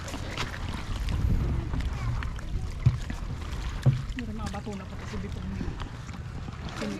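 A bangka boat crosses a calm sea just after rain: a low, continuous rumble with wind buffeting the microphone and a few brief knocks, fairly quiet overall.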